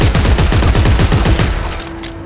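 Bullpup rifle firing full-auto in the video game Dead Space 3, a loud close burst of rapid, evenly spaced shots lasting about a second and a half, then a short ringing tail.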